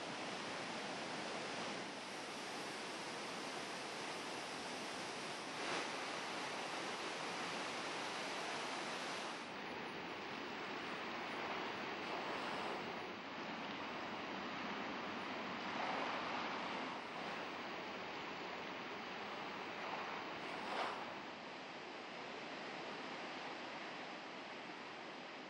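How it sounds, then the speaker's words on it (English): The Rhine Falls in Switzerland, 150 meters wide and 23 meters high, pour a huge volume of water in a steady, dense roar that holds unbroken from start to finish with no voices. "Over a width of 150 meters and a height of 23 meters, the Rhine violently cascades, an average of 700 cubic meters of water per second."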